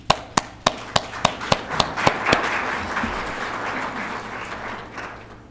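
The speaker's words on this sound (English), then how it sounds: "I want to applaud you" Applause from a San Antonio community audience at a Bexar County teen pregnancy report event, opening with a few loud, distinct claps that spread into a steady wash of clapping, then thin out and fade.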